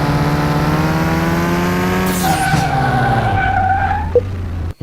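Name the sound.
Mini car braking and skidding, Car Mechanic Simulator 2021 video game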